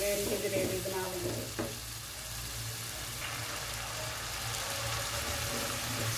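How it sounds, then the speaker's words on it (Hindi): Masala frying in a pan for a dhaba-style dal mash gravy, a steady soft sizzle with a few stirring scrapes near the start, with a low background hum underneath. "इनको अच्छी तरह से फ्राई करेंगे, इनकी ग्रेवी बना लेंगे"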